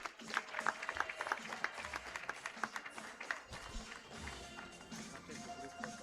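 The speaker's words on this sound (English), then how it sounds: "A big clap for Rachel Muema" Audience applause closing a health integration summit, a run of scattered claps with some crowd noise, moderately distant and steady for several seconds before thinning out.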